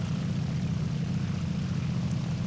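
A German propeller plane's engine in War Thunder, running hot, gives a continuous loud low drone with a steady throbbing texture and no voices.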